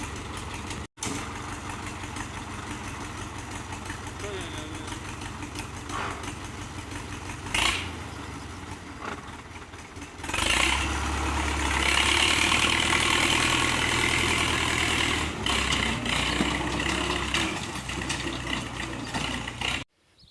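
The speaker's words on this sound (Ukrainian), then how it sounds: "трактор їде на мій город" A tractor engine runs steadily at a farm plot being readied for potato planting, a loud continuous mid-low drone that swells louder around the middle and stays heavy to the end, with no talking.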